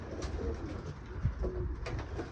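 Domestic pigeons cooing in a loft, soft low coos repeating a few times at close range against quiet background.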